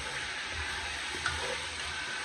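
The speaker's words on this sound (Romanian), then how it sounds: "Aici am pus aricioare să le prăjească. Le prăjim întâi." Small meatballs fry in a pan with a steady, dense sizzle and crackle that runs without a break, close and fairly loud, with a faint stir or clink in the middle.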